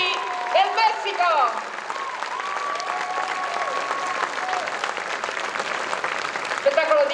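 Audience applause for a marching band from Mexico at a festival, steady clapping and crowd noise throughout, with a voice talking over it at the start.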